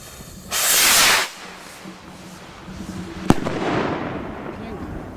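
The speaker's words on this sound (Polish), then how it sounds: "No i proszę Państwa, ostatnia rakieta." A Klasek Signature Range firework rocket launches with a loud, sustained whoosh, then after a pause bursts with one sharp bang followed by a crackling fizz that trails off.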